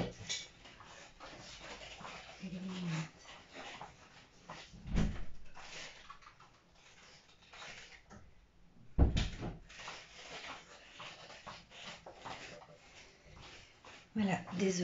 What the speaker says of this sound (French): Je vais ouvrir la porte à mon chat.